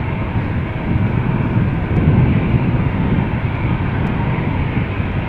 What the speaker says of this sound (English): And one of the many Embraers of KLM Cityhopper.